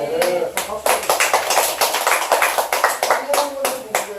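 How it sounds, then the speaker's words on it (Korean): Attendees at a party provincial committee meeting clap together, a brisk run of sharp, close hand claps with uneven rhythm, accompanied by a few voices speaking. "박수."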